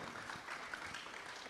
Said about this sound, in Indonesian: Silakan Bu Ninik, boleh kasih tepuk tangan